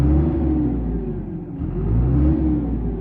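A Claas Ares 567 tractor with a 4.5-litre, 115 hp John Deere engine runs close by, a loud, steady diesel drone that dips and rises again as it revs, with no voices.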